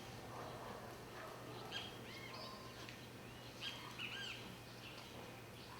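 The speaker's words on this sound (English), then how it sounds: "Notice the birds." Birds chirping outdoors on a quiet morning, with a few scattered short calls standing out faintly over a steady low hum.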